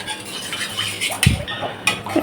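Metal pans and a wok clink and clatter as curry is moved from one wok into another in a home kitchen, with a few sharp knocks among softer scraping sounds.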